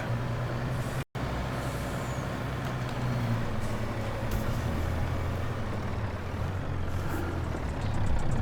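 A lorry in Farming Simulator 22 drives along with a steady, loud engine drone and road rumble. A brief dropout cuts in near the start and faint beeping comes near the end.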